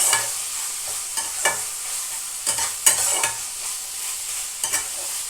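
A chicken crepe filling with chopped green chilli fries in a pan, a steady close sizzle broken by repeated sharp scrapes and clacks of stirring.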